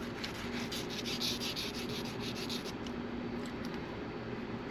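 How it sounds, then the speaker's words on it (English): Metal wire for a wire-wrapped clothespin brooch rubs back and forth over a fine tooth file, a quiet, steady rasping scrape close up with a faint hiss. "run it over your file. I'm using a fine tooth file"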